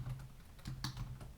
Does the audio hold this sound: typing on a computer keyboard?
yes